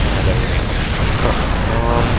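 Tanks shelling and destroying photon cannons in StarCraft produce loud, continuous booming explosions with bursts and pops over about two seconds.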